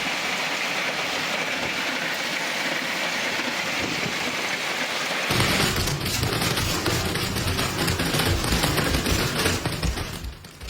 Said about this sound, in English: Severe storm strikes, northeastern Bulgaria. Hail in Shumen.